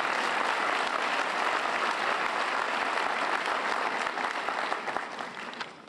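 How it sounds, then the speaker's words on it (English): Convocation audience applauding steadily, a dense sustained wash of clapping that tapers slightly at the end, with no talk over it. "You can go on and applaud"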